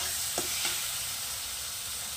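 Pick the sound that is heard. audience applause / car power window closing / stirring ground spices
stirring ground spices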